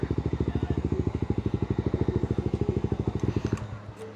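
A big motorcycle engine runs close by with a rapid, steady pulsing beat for several seconds, then quickly drops off near the end; no voices.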